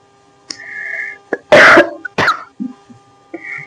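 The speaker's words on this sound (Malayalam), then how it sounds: "എന്തോ പെട്ടെന്നൊരു ചുമ വന്നു" A few loud, close coughs with throat-clearing sounds, over a quiet background with a steady faint hum.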